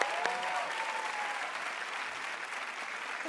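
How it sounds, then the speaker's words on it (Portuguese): Studio audience applause on a comedy show, a dense, steady roar of clapping at full strength throughout, with a brief tone and faint voices under the crowd. "É muitos aplausos."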